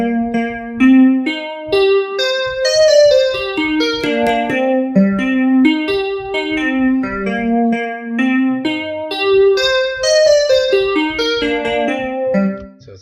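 A melodic synth pattern built with Lectic in the GMS synth in FL Studio 11 plays bright, harmonically rich notes in a steady rhythm with rising and falling phrases, loud and alone.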